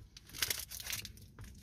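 Sticky tape being torn off a Teamcoach 2022 trading card pack, with close, loud ripping and crinkling bursts of plastic and paper across a short stretch and no talk.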